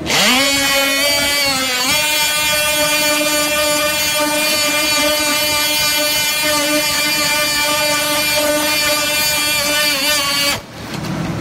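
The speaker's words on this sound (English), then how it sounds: "Only way I'm being able to get this off is use my DeWalt multi-tool." Loud, continuous buzzing whine of a DeWalt oscillating multi-tool held close, cutting off roof coating, pitch steadying after the start and cutting off near the end.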